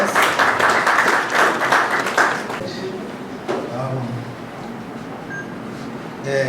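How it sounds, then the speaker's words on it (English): Audience at a press panel event gives a short round of applause that fades after a few seconds, followed by quiet room noise and faint voices in the background. "Please, let's give them a warm round of applause."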